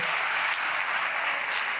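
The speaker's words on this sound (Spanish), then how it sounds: "un fuerte aplauso también para Santi Elías, el chef onubense" A seated audience at a round-table food event applauds a chef from Huelva, a brief, dense burst of many people clapping in unison at steady volume.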